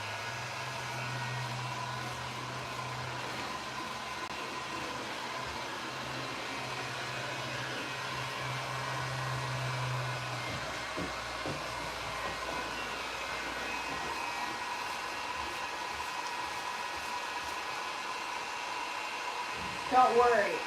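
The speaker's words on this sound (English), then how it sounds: "I'm gonna lightly heat gun this one" A heat gun blows steadily on old chipping paint on a furniture piece, a continuous airy roar with a low hum in the first half, ending with a brief clatter.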